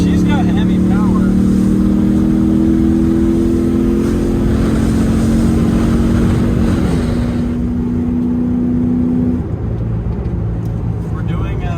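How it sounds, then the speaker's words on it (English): Dodge Ram 1500 pickup with a 5.7 HEMI V8 and a leaking exhaust, revving and pulling loudly with steady droning engine tones that shift in pitch, then easing off near the end. "You can hear this exhaust leak."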